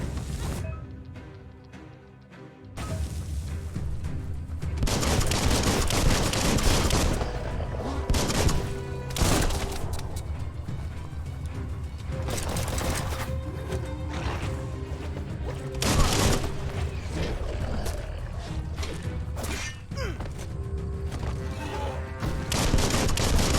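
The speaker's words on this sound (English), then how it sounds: "Bullets everywhere." Heavy gunfire from the action game Biomutant, sustained volleys of shots and booms after a brief quiet opening, loud and near, with repeated bursts and crashes across the whole stretch and no talk.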